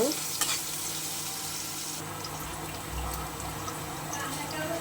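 Food sizzling and frying in a pan, a steady quiet hiss close by with a brief clink at the start and faint low rumble, no clear talk.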